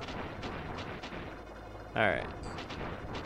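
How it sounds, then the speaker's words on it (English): A burst from an explosion in the video game Plok strikes near the two-second mark, loud and brief, ringing out over busy game music and effects, with someone talking over the game. "That's a good explosion graphic there."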